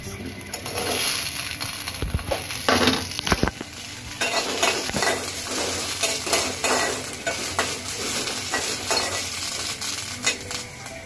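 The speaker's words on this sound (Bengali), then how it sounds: "এখন আমি কাঁচামরিচটা ভাজা নিব।" Green chilies fry in an oiled pan at close range, with a continuous hiss and sizzle broken by repeated scraping and stirring strokes of a spatula against the pan.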